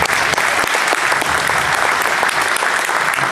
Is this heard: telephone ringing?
no